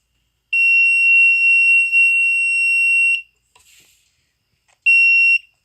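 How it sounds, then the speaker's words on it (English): A piercing electronic buzzer tone from a DIY Arduino alarm system sounds for about three seconds, stops amid faint rustling, then beeps again briefly. "Yes, guys, that's my alarm system."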